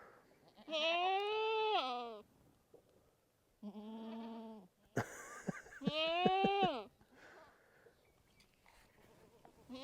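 Goats bleat loudly up close, several long wavering calls with short pauses between, and a voice briefly audible in the gaps.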